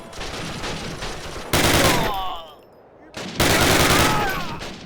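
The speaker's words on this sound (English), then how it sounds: "there's some guys shooting at you" Enemy soldiers firing in a Call of Duty game set at the Battle of the Bulge, dense bursts of gunfire in two loud volleys separated by a brief lull, with shouted voices mixed in.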